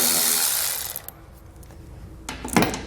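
A 10 mm bolt is removed from a 2020 Jeep during a base plate installation. A burst of tool noise is followed by a quieter stretch, then a few sharp metallic clinks near the end.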